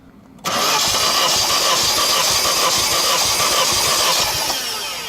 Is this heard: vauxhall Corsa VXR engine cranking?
yes